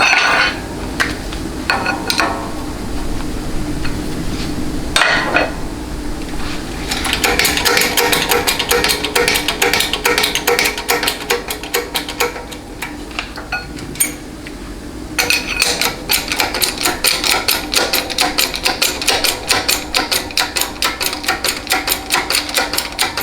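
A new bushing being hammered into a 4L60E transmission pump, a performance PT9 pump assembly, gives a dense run of sharp metallic strikes and clinks, close and fairly loud, with a short pause partway through.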